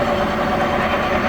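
A Heyligenstaedt 400A/30 lathe, a large 32-by-222-inch machine, running at low speed, giving a steady, even mechanical hum and drone with no distinct beats, close and continuous, with no one speaking.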